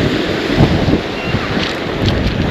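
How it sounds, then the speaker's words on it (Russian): Strong wind on the seafront at Lazarevskoye in Sochi buffets the microphone in a loud, continuous rumbling gust, with waves faintly washing underneath. "Сильный ветер. Не очень комфортно."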